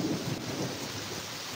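Heavy rain pours down steadily in a dense, even roar, with low rumbling underneath that suggests distant thunder; no voices, just the continuous downpour close by.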